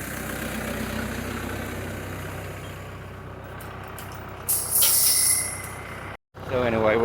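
A farm tractor engine idles in a steady, low drone. Louder rustling and clattering come in near the end, and the sound cuts out briefly before the idle resumes.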